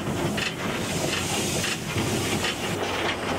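A steam locomotive on the Elsecar Railway hisses steam loudly and continuously, a broad close roar with faint rhythmic surges.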